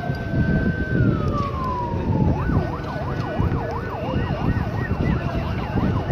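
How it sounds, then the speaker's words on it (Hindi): Ambulance siren at the site of a collapsed marriage hall building in Mirpur, Azad Kashmir, first holding a steady tone, then sliding down and switching to a rapid wailing yelp, loud and continuous over a busy crowd rumble. "एम्बुलेंसेस यहाँ पे खड़ी हैं"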